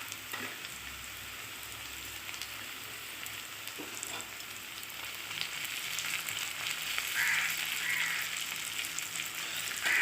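Chopped tomato fries with onions in a pan, a soft steady sizzle that swells a little louder midway and carries a faint bubbling crackle, close by with no voices.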